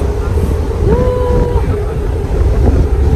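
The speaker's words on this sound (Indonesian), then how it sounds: "Angin enak banget" Sea wind buffets the open deck of a passenger ship, a steady loud rumbling rush with a short tonal whine partway through.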